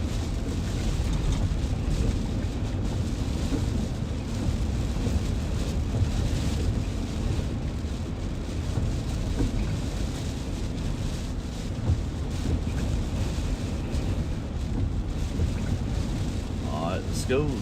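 Heavy wind from a tropical storm buffets the microphone while rain pours steadily, a dense, continuous roar of stormy weather with no break.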